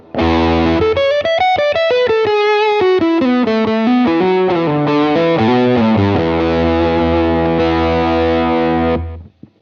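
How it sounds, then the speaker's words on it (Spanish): An electric guitar played through a UAD Enigmatic '82 overdrive amplifier with heavy preamp distortion, a loud, sustained lead line of bending, gliding notes with fast runs, alone and close, ending in a fade. "Escucha cuánto hay en el preamplificador, la distorsión."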